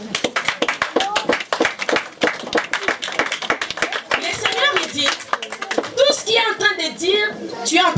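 A church congregation at a worship service clapping rhythmically in praise of the word of God, steady hand claps that grow into shouts and cheering voices.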